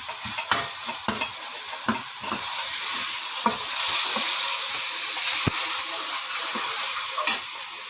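Masala frying in a pan for a potato, fenugreek, carrot and pea dish, a hissing sizzle under repeated sharp clinks and scrapes of a spoon against the pan, close and without talk.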